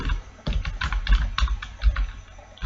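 Fingers typing quickly on a computer keyboard, a close, busy patter of key clicks in uneven clusters without pauses or speech.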